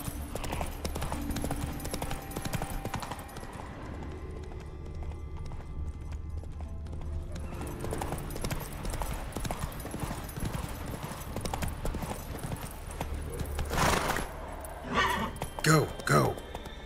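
A horse named Roach in The Witcher 3 gallops with a steady, rapid clip-clop of hooves, moderately loud, accompanied by game sound effects and occasional speech.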